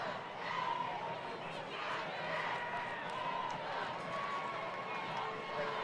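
A high school football crowd at a Brunswick High School versus Effingham game roars after a long kick-return touchdown, with a steady, fairly distant cheering wash and some indistinct voices mixed in.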